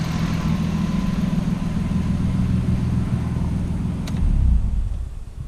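A car with a turbocharged RB engine idles with a deep, steady, close rumble, then blips briefly louder near the end before the sound cuts off; no talking.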